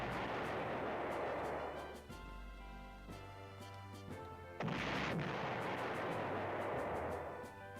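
Artillery fire in the PlayStation 1 strategy game Panzer General: dense, roaring booms and blasts with rapid crackling shots, one loud burst in the middle, continuous and fairly loud with no talking.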